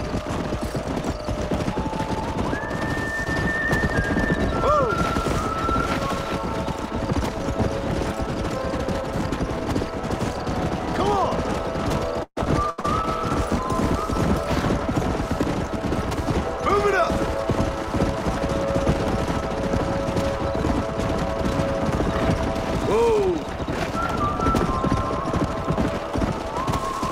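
Horses in the Red Dead Redemption video game, hooves clip-clopping in a steady rhythm as they move along, under game ambience, a brief dropout midway and scattered background effects.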